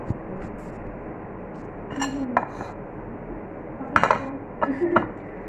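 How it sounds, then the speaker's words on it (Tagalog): Soft clinks and scrapes of utensils against a plate as spicy Samyang noodles are put onto it, in a few short bursts over a quiet background hum. "Lalagay ko lang siya sa pinggan"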